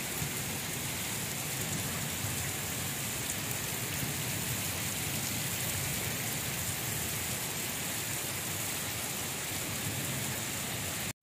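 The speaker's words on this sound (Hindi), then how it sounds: "तो अच्छ सुबह सुबह ही बारिश आ गई है।" Steady rain hisses continuously, an even, dense wash of drops falling with no pauses or voices.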